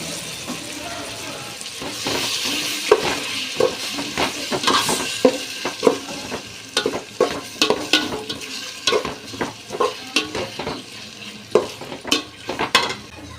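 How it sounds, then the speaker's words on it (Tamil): Three tomatoes fry in a pan for mutton biryani under a low sizzle, while a spoon stirs and scrapes with repeated sharp clacks against the metal, close and fairly loud. "தக்காளி ஒரு மூணு தக்காளி சேர்த்து நல்லா ஃப்ரை பண்ணி எடுத்துக்கலாம்"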